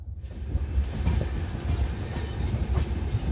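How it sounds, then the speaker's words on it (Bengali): The Shri Shakti Express rumbles steadily close by, wheels clattering on the rails as it rolls into Mata Vaishno Devi Katra station before dawn, with no voices. "ট্রেন ঢুকছে মাতা বৈষ্ণব দেবী কাটরা স্টেশন"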